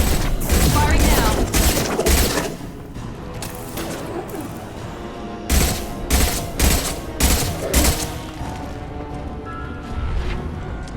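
Heavy gunfire and weapon blasts from the Mass Effect 2 Remastered video game, loud clustered volleys and booms up close, pausing briefly before another burst of shots, with a voice heard faintly in places.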